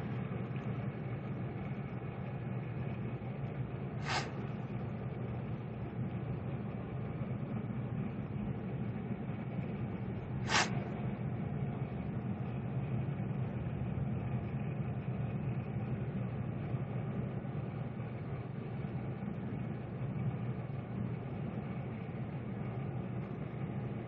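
A 2-ton basement air conditioner blower fan on a 2021 Columbus RV runs with a steady low droning hum throughout, broken only by two brief sharp clicks.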